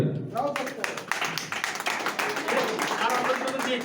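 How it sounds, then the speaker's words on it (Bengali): Audience applause during a demonstration of water changing colour with cumin, a dense patter of hand claps running steadily throughout at close range, with some chatter mixed in. "জল তত্ত্বের জন্য জোরে হাততালি।"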